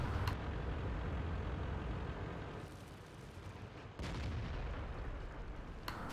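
Artillery fire in a tank video game replay: several heavy booms, with sharp blasts near the start, middle and end, over a steady loud rumble of battle noise.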